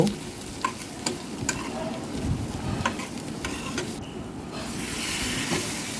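Spices for a rohu fish curry sauté in a pan, giving a loud, dense frying sizzle with repeated sharp scraping strokes of the spoon at an uneven rhythm, up close and without talk.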